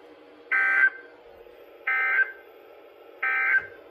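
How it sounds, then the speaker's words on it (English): NOAA weather radio warning alarm test tone: three loud, steady electronic tone bursts of about a third of a second each, evenly spaced roughly every 1.3 seconds over a low background hum. "This is a test of the National Weather Service NOAA weather radio warning alarm system."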